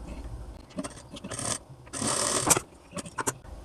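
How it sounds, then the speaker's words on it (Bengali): A sewing machine stitches the joint of a blouse neck band, with short bursts of rasping, whirring stitching separated by brief pauses, close and moderately loud. "জয়েনটা আগে সেলাই দিয়ে নিতে হবে"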